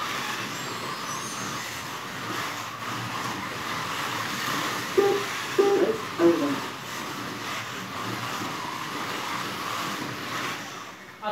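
Model race cars racing around a raceway produce a continuous electric whirring hum, with a few brief sharper chirps partway through and a faint background of voices.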